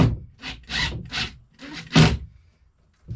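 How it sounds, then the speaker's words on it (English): A ratchet tightens the fixing on a mains-powered smoke alarm during installation, giving a handful of close, rasping clicks in uneven strokes with short gaps between them, heard alone. "There we go, ratchet."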